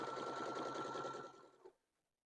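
A sewing machine runs fast, steady appliqué stitches on fabric, a dense, even whirring buzz heard up close that slows briefly and then stops, leaving quiet.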